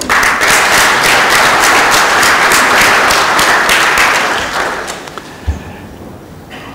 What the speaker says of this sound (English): May I request him to stand up and take an applause.